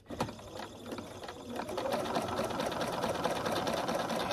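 A sewing machine stitches quilt pieces together with a shortened stitch length, starting with a few brief bursts before settling into a steady, continuous whirring run that stays close and fairly loud, with no voices.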